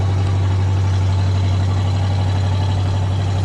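A Buick 455 V8 in an estate wagon idles steadily through turbo mufflers with a deep, rumbling exhaust tone, constant and close, with no voices.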